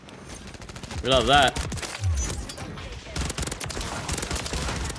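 Rival 9 burst rifle with conversion kit firing in Call of Duty MW3: loud, close, rapid bursts of gunfire that continue almost nonstop, with a brief electronic game sound early on and a player talking over the shots.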